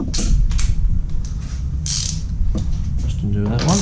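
Tool undoing a dome nut on a Yamaha MT 125 motorcycle, close mechanical ratcheting clicks and creaks in quick bursts, loud and near, with a voice speaking briefly at the end.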